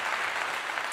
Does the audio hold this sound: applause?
yes